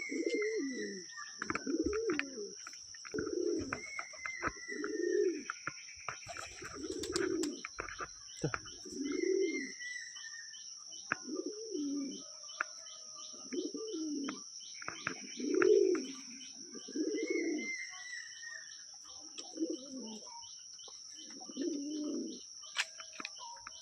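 Lotan and Kaldom pigeons coo outside a loft in a slow series of deep, rolling calls repeated roughly every second, close by, with faint chirps, a steady high whine behind them and occasional wing or handling noises.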